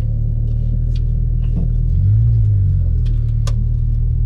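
A Porsche 991.2 Turbo engine pulls hard on the road, a deep continuous rumble that swells slightly mid-way, heard from inside the car alongside light cabin clicks and no talk.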